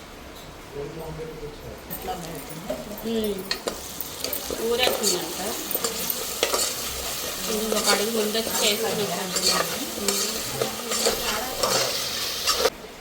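Green chilli paste sizzles and fries in a pan while a spoon stirs it with steady scraping and clinks, someone talking over the cooking throughout.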